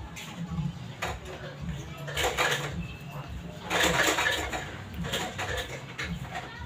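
An electric table fan running after its thermal fuse was bypassed gives a steady mechanical whir with faint rattling and ticking, mid-level and close, under someone speaking Filipino.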